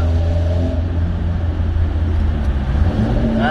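Interior of a moving car carrying two occupants, a loud continuous low engine and road rumble with a slight rise in engine pitch toward the end.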